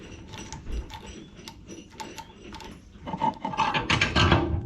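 A lubricated part is screwed into a homemade jet boat's engine setup with a wrench, giving a run of metallic ratcheting clicks and rubbing that build louder toward the end, with no talking.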